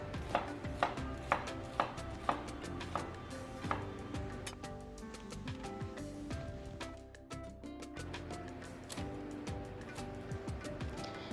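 A knife chops an onion rhythmically on a board, sharp regular strikes close up at first, then softer and more scattered, with no talking.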